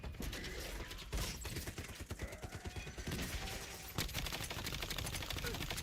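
Gunfire from a Call of Duty match, rapid shots aimed at lights, crackling in dense bursts over a busy game mix, with a voice talking over it.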